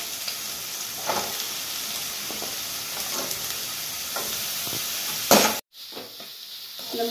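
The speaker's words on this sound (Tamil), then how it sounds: "இப்போ இதில் முள்ளங்கியை போட்டுருவோம்." Chopped radish sautés with onions in a pan for a mixed vegetable chutney, producing a steady close hiss and sizzle with faint stirring, then a brief louder burst and a short drop before the sizzle resumes.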